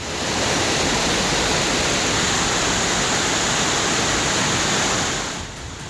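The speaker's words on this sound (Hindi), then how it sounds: "सड़कों पर 10 से 15 फीट तक पानी, बस्ती बस्ती में बाढ़ और बेबस जिंदगानी।" Floodwater rushes through village streets in Satara district, Maharashtra, after the Krishna River overflowed, roaring as a loud, steady wash of churning water that continues without a break and fades slightly at the very end.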